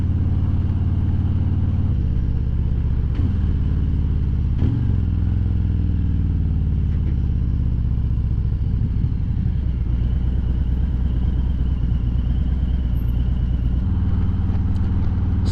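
A motorcycle fitted with Vance and Hines Eliminator 400 exhaust pipes runs with a deep steady rumble and rises in pitch as it is revved, loud and close throughout with no talk.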